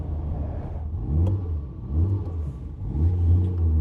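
A 1969 Ferrari 365 GTC engine gives several quick throttle blips over a steady idle, each rev swelling briefly then dropping back, close by.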